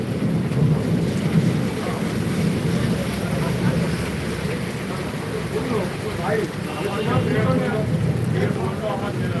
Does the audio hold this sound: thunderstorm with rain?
yes